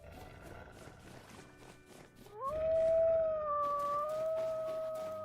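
A wolf in the survival game Vintage Story lets out one long, rising howl that swells loud and then holds steady, preceded by a few faint clicks and rustles.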